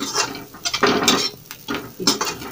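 Kachori filling with coriander roasts in a pan as a spoon stirs and scrapes it, close clatter and scraping bursts over a light sizzle, short and busy.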